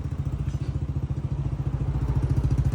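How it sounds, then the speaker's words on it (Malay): An Aveta Nova 250 motorcycle idling through a custom S-Flow exhaust, a deep, steady, rhythmic burble of low pulses close by, with no talking. "Exhaust bunyi gebu-gebu ya."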